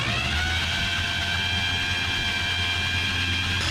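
A 1951 Chevy 3100 pickup with a high-compression race engine cranking over, a steady droning, humming churn that holds at an even level throughout, with no voices.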